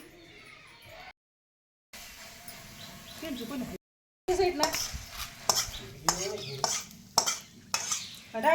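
Home cooking under way in a kitchen, with pots and utensils clattering and stirring in a steady run of light knocks and scrapes, plus a few sharper clinks near the end; talk is heard in the background.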